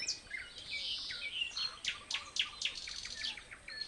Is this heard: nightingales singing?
yes